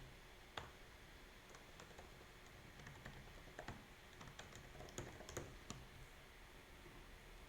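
Someone types a house address on a computer keyboard, a quiet, irregular run of light key clicks with short pauses and a few sharper taps, heard close up with no talking.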